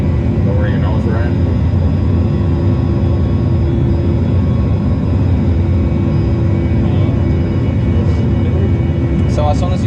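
Steady aircraft engine drone inside a flight simulator runs loud and continuous throughout, with crew voices talking over it.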